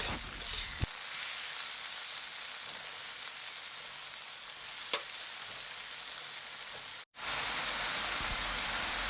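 Lotus stems and leaves stir-fry in a hot pan, giving a loud, steady close sizzle with occasional scrapes and clicks, briefly cutting off before resuming.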